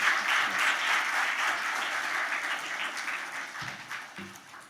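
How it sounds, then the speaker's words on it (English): Audience applause at a prize distribution ceremony, a dense, steady wash of many hands clapping that gradually thins and fades near the end. "Can we have a round of applause for our chief guest and our guest of honor?"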